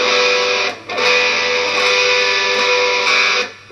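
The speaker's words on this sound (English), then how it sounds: "With lots of noise ringing out and string sound." Electric guitar strings strummed loosely under heavy distortion, with unwanted noise and string buzz ringing out continuously; two brief gaps break the loud, dense wash.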